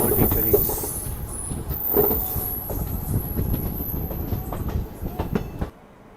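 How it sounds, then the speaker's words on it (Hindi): A special passenger train running from Delhi to Prayagraj rumbles through a station loop line with steady low wheel and carriage noise, then the sound drops away abruptly as it comes to a halt. "तो फाइनली अपनी ट्रेन यहाँ पे अब रुक चुकी है"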